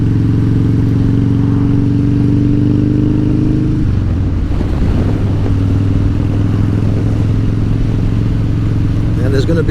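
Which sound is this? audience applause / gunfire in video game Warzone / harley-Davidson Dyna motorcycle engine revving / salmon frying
harley-Davidson Dyna motorcycle engine revving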